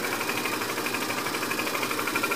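A gas burner on a homemade natural-gas-fired steam engine flares in a steady, loud roaring rush with a fluttering, rhythmic pulse, close by and without talk.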